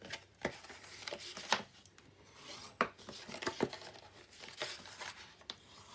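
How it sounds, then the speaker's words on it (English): Paper being folded and burnished along score lines for a pencil box, close, quiet crinkles and scattered sharp rubbing and creasing strokes in an irregular rhythm. "Fold and burnish on all of your score lines."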